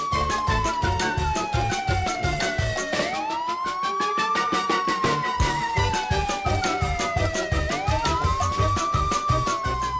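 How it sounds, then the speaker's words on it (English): A cartoon police car siren wails up and down in repeating sweeps during a chase, loud and close over a steady rhythmic music beat, with no talking. "Another police car has blocked their path."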